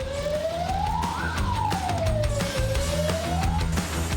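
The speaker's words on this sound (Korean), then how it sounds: "사이렌을 울리며 고성능 산불 진화차가 출동합니다." A wailing siren sweeps up and down, rising to a peak and falling again, loud and close, as a large high-performance wildfire suppression fire engine sets off on a call, with vehicle rumble beneath.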